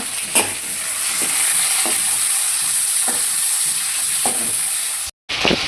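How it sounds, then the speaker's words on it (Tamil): Crushed garlic and tomato sauté in hot oil for a Sankara fish curry. A loud, constant sizzle is punctuated by regular scraping stirs and cut by one brief silence near the end. "பூண்டு தட்டி வச்ச பூண்டு இந்த எண்ணெயில் நல்லா வதக்கணும்"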